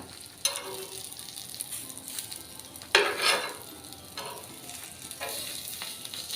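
Rava-coated fish frying in a pan on a medium gas flame makes a constant sizzle, broken by several bursts of louder crackling and a few soft clinks as the pieces are moved.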